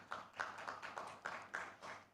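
Light audience applause at a Data Privacy Month event in Uganda, a faint scattering of separate claps in an uneven rhythm.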